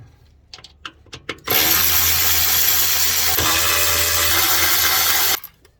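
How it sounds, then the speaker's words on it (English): A ratchet removes bolts from the motor of a Kwikee RV entry step: a few light clicks, then a loud, steady mechanical whirring buzz holds for about four seconds before stopping. "let me just pull these 3 bolts out and drop the whole motor down"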